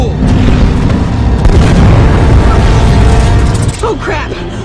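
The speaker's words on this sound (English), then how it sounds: "What the hell was that? An anti-aircraft fire?" Heavy booming blasts of anti-aircraft fire in the action game Uncharted rumble loud and continuous, with a person talking over the explosions near the end.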